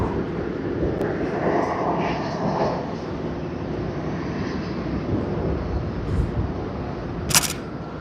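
A Qantas aircraft at Sydney Airport gives off a steady, broad jet roar from some distance, holding level throughout with a brief sharper burst near the end and no talking.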